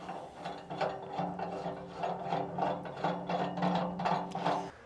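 A nut threaded onto a bolt on a sawmill bed section gives a quiet, close, repeated ratcheting click-and-rasp in a steady rhythm, with no talking.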